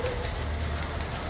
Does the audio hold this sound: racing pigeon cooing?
yes